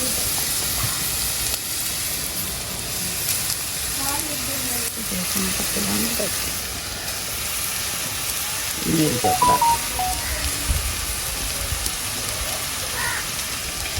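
Vegetables sautéing in a pan before rice goes in, a continuous hissing sizzle with light stirring clatter.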